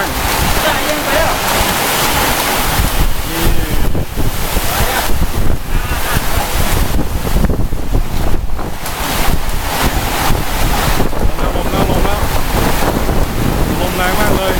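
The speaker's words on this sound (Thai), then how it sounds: "ลมแรงมากเลยรีบเข้าไปข้างในบ้านพอแล้ว" Very strong summer storm wind in Chiang Rai, Thailand, right after a hailstorm, roaring continuously and loudly across the microphone with gusting buffets throughout.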